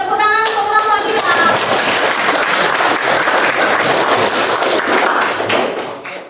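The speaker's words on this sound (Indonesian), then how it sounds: "Tepuk tangan untuk kelompok kita." Classroom applause for a student group: many hands clapping in a dense, lively burst that fills the room, with a few children's voices under it, fading slightly at the end.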